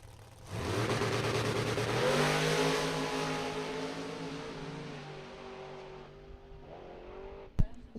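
Drag racing cars launching and accelerating hard down the strip, a loud rising engine roar that peaks early and fades into the distance, then a sharp bang near the end.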